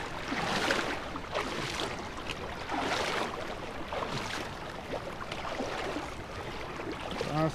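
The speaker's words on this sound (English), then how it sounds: "Crossing the river." Bare feet sloshing through the shallow Ozette River on Olympic National Park's north coast, a steady broadband wash of moving water with repeated splashing surges as each step lands, close and continuous.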